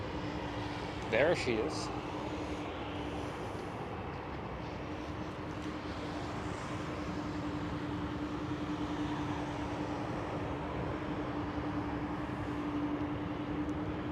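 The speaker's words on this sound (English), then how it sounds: "Atlas Air 747 taxiing very close by." An Atlas Air Boeing 747 taxiing close by at Schiphol airport in winter, a steady loud engine whine and rumble throughout, with a brief voice near the start.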